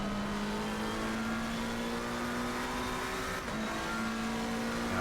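Ferrari race car in a racing video game at Silverstone: steady, loud engine drone holding a sustained rev with a brief dip near the end, continuous and alone.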